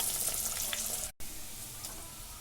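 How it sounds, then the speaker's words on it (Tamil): Dhal vadai (masala vadai) patties deep-frying in hot oil, a steady close bubbling sizzle with a brief dropout partway through. "எண்ணெய் காஞ்சதும் இந்த மாதிரி வடையை தட்டிட்டு போட்டு பொரிச்சு எடுத்துக்கலாம்."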